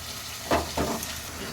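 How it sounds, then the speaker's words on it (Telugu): Coarse rock salt dry-roasted and stirred in a pan for egg curry, heard as two short scraping, crackling bursts over a faint steady hiss, close and moderately quiet. "1 స్పూన్ గళ్ళుప్పు బాగా వేయించాలి ఫ్రెండ్స్."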